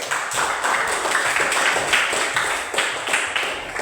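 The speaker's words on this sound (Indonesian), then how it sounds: "Demikian, dekan tepuk tangan dulu." Classroom group clapping after a student group's presentation, steady and moderately loud across the whole stretch, with no talk over it.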